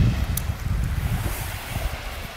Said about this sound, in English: There's about 5 kilometres of wind at the moment